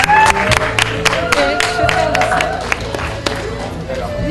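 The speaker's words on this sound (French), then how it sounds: "Pouvez vous applaudir s'il vous plaît." Audience applause and cheering at a charity gala preparation event, a dense burst of clapping from a crowd mixed with voices and music, loud and close throughout.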